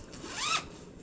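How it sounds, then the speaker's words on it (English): A single quick zip of the zipper on a large handmade sweater bag, rising sharply and fading within half a second, close and clear against quiet room tone. "This is one of my large zipper sweater bags."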